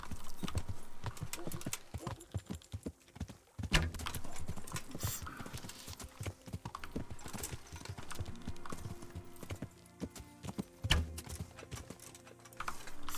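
Horse hooves clip-clop on the ground in Kingdom Come Deliverance, a busy irregular run of hoof strikes mixed with clattering and rustling game sounds, steady throughout with no talk.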